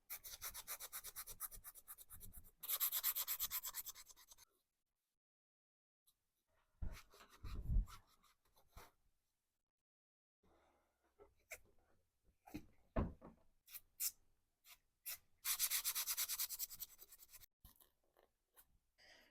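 Scrubbing spots on a 1990 Harley Davidson Sportster wheel, with sustained bursts of harsh rubbing and rasping broken by quiet gaps and scattered knocks and scrapes, close by and without talk.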